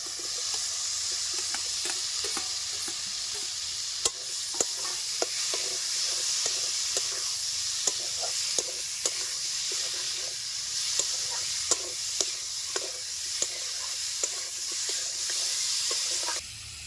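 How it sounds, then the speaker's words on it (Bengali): Home-grown kohlrabi pieces, fried earlier, sizzle steadily in a pan of cooked-down spices with salt, with repeated light scraping and stirring knocks over a continuous frying hiss. "এখন আমি দিয়ে দিচ্ছি বেজে রাখা সবজিগুলো"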